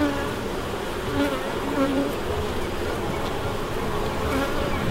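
Honey bees buzz around an open hive during an inspection, a thick, steady drone right up close, many insects humming at once without pause.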